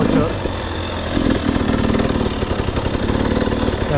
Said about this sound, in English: There you go, we'll have a little throttle.